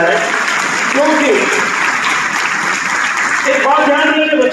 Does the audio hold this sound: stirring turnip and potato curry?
no